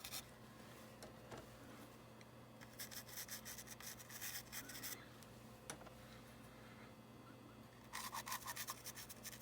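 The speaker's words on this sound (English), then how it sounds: "get in there with the brush and kind of scrub it into the grills" Brush scrubbing Pan Pastels into the grills of a model railroad locomotive, heard as soft, close, intermittent scratchy rubbing strokes in several bursts over a low steady hum.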